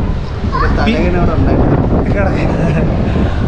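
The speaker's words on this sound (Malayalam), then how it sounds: "നല്ല കാറ്റുണ്ട്" Strong wind at Kanyakumari buffets the microphone with a constant low roar while a person talks close by.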